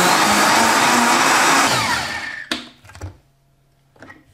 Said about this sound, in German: Und das Ganze wieder für ca. 20 Sekunden schön cremig pürieren.